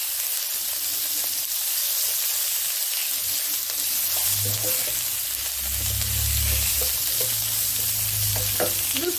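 Ground beef frying in a pan with garlic for Thai basil beef, a steady close hissing sizzle that swells louder partway through, alone with no talk.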